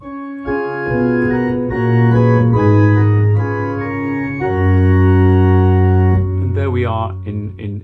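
Low bowed string basses play a sustained, slow melodic line, joined by higher orchestral voices, full and steady throughout.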